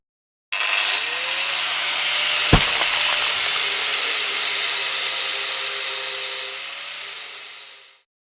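An animated grinder machine shreds a plastic toy, a harsh, loud grinding whir that starts abruptly, holds steady with a sharp crack early on and rising tones, then cuts off.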